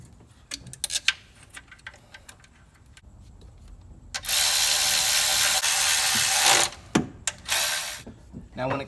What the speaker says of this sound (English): take our torque wrench and torque them down to 21 foot-pounds